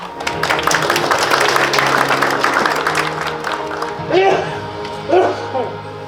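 An audience at the 2024 Pyeongtaek International Peace and Security Forum applauds warmly, a dense wash of clapping for the first few seconds that thins out as a voice begins speaking over it.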